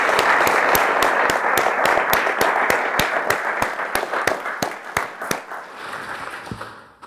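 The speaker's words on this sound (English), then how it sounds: "round of applause." Audience at a Government House investiture applauding award recipients, sustained crowd clapping with sharp, regular hand claps standing out near the front, gradually thinning and trailing off toward the end.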